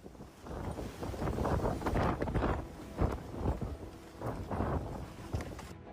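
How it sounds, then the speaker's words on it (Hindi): Strong wind gusts buffet the microphone during heavy snowfall on a closed highway, loud rushing bursts rising and falling irregularly throughout. "बर्फबारी के साथ तेज हवा का झोंका चल रहा है।"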